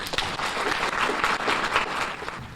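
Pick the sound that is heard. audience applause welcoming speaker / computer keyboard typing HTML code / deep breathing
audience applause welcoming speaker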